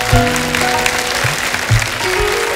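Studio audience applauding on a Hindi comedy talk show, sustained clapping over faint musical tones, swelling near the start and again toward the end.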